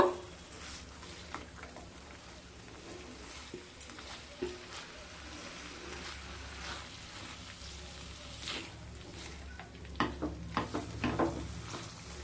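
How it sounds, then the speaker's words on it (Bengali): Fried spiny gourd being stirred into spices in a pan, a quiet sizzle with intermittent scraping and tapping of a spatula, a cluster of sharper knocks near the end. "এবার ভেজে রাখা কাঁকরোলগুলোকে দিয়ে দেবো মশলার সাথে কাঁকরোলগুলোকে খুব ভালোভাবে মিশিয়ে নেব"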